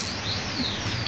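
Racing pigeons in a loft, soft cooing and rustling wing flaps heard close up over a steady background hum in a brief stretch.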